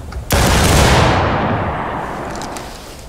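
Musket volley fired at targets during a drill in the video game War of Rights, a single sharp massed blast that rolls out into a long fading rumble.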